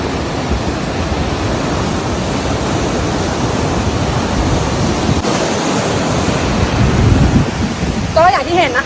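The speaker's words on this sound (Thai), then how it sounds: "น้ำตกเนี่ยมันไหลมาจาก ภูเขาน้ำแข็งนะคะ แล้วก็กำลังไหลลงไปทางนี้" Huka Falls in New Zealand sends rushing water past in a loud, continuous broadband roar, close and steady throughout, with a few brief high chirps near the end.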